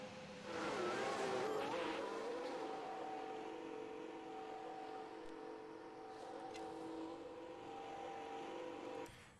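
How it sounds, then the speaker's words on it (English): Formula 1 race cars heading out on track in the F1 Manager 22 video game, a sustained, moderately loud engine drone with steady tonal whine that swells early then holds, alone without talk. "Quite a lot of cars coming out very early on."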